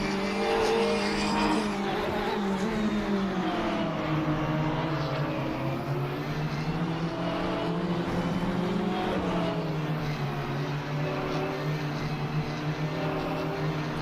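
A Porsche race car in Le Mans Ultimate drones loudly throughout, its engine note rising and falling through gear changes with faint tire noise, no voices over it.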